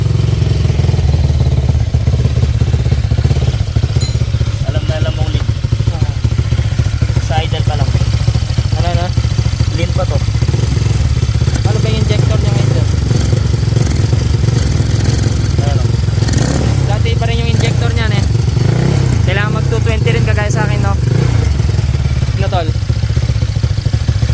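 A Honda Click 199cc scooter with a 63mm BRT block and Ataka 26/31 head runs after a push start, its engine droning loud and steady under someone talking close by.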